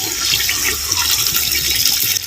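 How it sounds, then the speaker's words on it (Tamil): Fresh water pours into a pot of mutton head curry as it cooks, a steady close splashing gush lasting a couple of seconds without speech. "நமக்கு வந்து தேவையான அளவு பச்சை தண்ணி ஊற்றிக்கலாம்"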